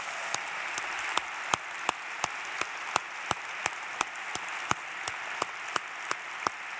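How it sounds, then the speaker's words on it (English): At an inauguration ceremony, an audience applauds: a soft wash of clapping runs under a sharp, evenly spaced clap that repeats steadily about three times a second throughout. "Another round of applause."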